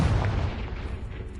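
A Confringo spell blast from Hogwarts Legacy bursts with a short booming explosion that decays into a rumbling tail, fairly close and alone.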